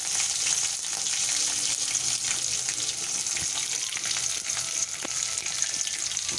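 Crushed garlic and green chillies fry in oil in a pan for a chutney, a dense, even sizzling hiss up close that continues unbroken, with faint crackles and no talking.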